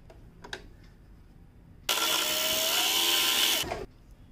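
A sewing machine stitches fabric for a shopping bag, running in one steady burst of nearly two seconds after a few light clicks, close and fairly loud.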